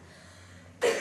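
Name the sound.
cough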